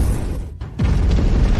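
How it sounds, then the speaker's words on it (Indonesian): A stone bursts apart in an animated scene: a dense roar breaks off into a short near-silent gap, then a loud booming blast rumbles on for almost a second. "Batu meledak. Karena tidak bisa menampung bakatnya, langsung meledak di tempat."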